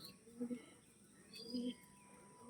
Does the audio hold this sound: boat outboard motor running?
no